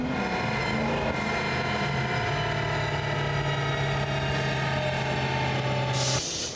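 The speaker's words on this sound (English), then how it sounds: "The dyno was actually used to ring the mufflers out and see what they have to offer." A Cherry Bomb muffler on a car running on a dyno gives a loud, steady exhaust drone with a held low tone that shifts pitch partway, then cuts off abruptly near the end, no voices.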